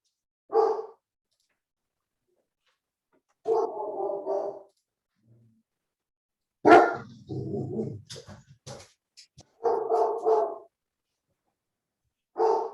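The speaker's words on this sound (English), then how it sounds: "You've got my dog stressing out right now." A pet dog barks in short bursts indoors, several separate barks and yelps spread across the stretch with quiet gaps between them, fairly close and moderately loud, with no talk over them.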